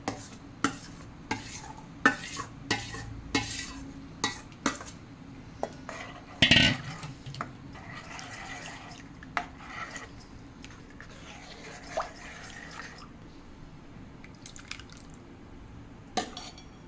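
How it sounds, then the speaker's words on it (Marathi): Custard apple pulp stirred into cooled milk rabdi with a spoon in a pot, soft wet stirring and repeated light clinks of metal against the vessel, one louder knock midway, with no talking. "आता सीताफळाचा गर मी याच्यात टाकते।"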